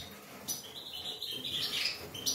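Small birds being fed outdoors on a cold street give a few close, high chirps and tweets in short bursts over a faint background hiss, with no speech.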